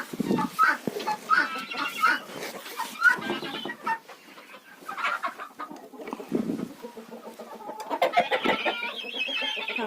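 Chickens cluck and squawk inside a henhouse also holding guineafowl, with busy overlapping calls in uneven bursts close by, swelling into a louder flurry near the end.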